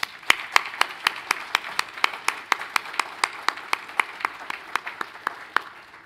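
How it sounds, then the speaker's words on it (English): Sparse, rhythmic clapping at a high school graduation ceremony, a few audience members striking hands in a steady beat of distinct, evenly spaced claps with faint room noise between them. "Please join me in a round of applause for the parents and family members."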